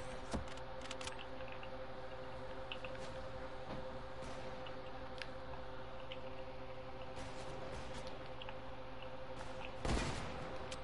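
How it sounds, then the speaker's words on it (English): Gunfire in a shooter video game, faint scattered shots and bursts of rapid fire over a steady humming background, with one louder crack near the end; no talking. "Aw, I'm being shot at."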